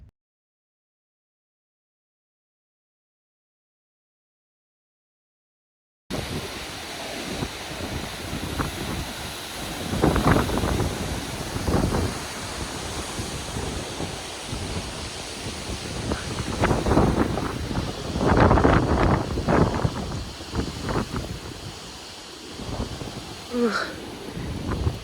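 Storm Ashley wind batters an old, wobbly Irish cottage, starting after several seconds of silence, then roaring and buffeting against the microphone in heavy, uneven gusts with rushing noise throughout.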